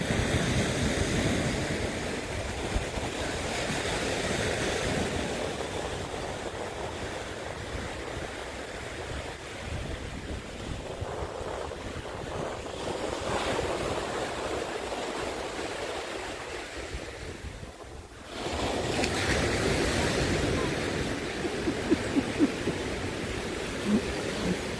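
Ocean waves at sunrise on Welches Beach in Barbados, a steady close roar of surf with wind buffeting the microphone, swelling and easing over the full span, with no talk.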